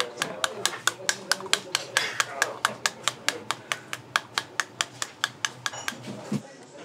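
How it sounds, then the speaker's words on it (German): A spoon taps the back of a pomegranate half to knock out the seeds, making a fast, even series of about two dozen crisp knocks, close and distinct, under a speaking voice. "und klopfen mit einem Löffel,"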